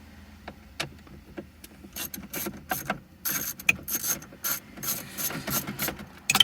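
Ratchet clicking steadily as 8mm bolts are backed out of the center console in a Mazda 3 interior, a close, dry run of quick pawl clicks in bursts with short pauses between.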